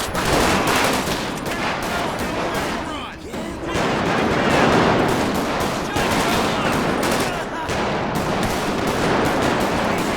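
Dense, continuous gunfire rages in GTA 5 during a police-mod shootout, a loud overlapping barrage of rapid shots with a voice talking in the mix.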